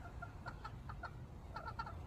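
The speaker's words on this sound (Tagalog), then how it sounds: "Alam nyo na yung manok" Chickens clucking at a home in the Philippines, a few short, faint calls in two small bursts over a low background rumble.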